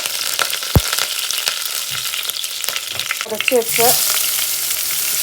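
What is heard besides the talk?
curry leaves sizzling in hot oil with popped mustard seeds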